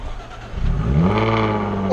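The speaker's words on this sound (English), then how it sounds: "I asked the guys to start it up so you guys can hear the exhaust" A Ford or Land Rover car engine cranks and catches, then the exhaust swells into a rising, throaty rev that holds loud and close to the end.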